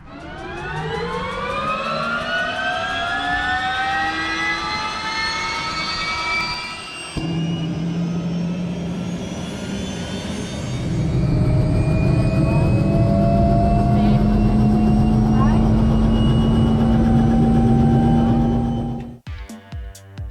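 The turbine engine and rotor of a Robinson R66 helicopter whine steadily during a hover check, with a loud rising and sustained turbine tone close by that shifts in pitch partway through before cutting down at the end.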